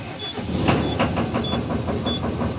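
A Mahindra Blazo BS6 diesel truck with a noisy engine that gives off black smoke cranks and catches, settling into a loud, close, rough rhythmic idle.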